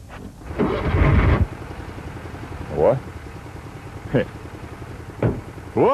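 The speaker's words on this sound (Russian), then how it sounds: "у него двигатель зверь" A used engine roars loudly in a brief burst near the start, then settles into a steady low rumble with a few short revving spikes.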